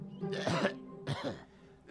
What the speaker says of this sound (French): il tousse